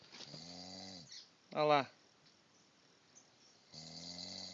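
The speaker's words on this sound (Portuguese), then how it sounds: "Filma a onça roncando." Loud rhythmic snoring, jokingly likened to a jaguar, on a fishing trip by the Sambura River in Brazil, with drawn-out rasping breaths at the start and end and a sharper burst in the middle; a voice briefly speaks.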